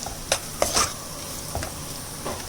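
Chicken cutlet masala being stirred in a pan: a soft continuous sizzle with a few distinct scrapes and taps of a spoon, close and fairly quiet.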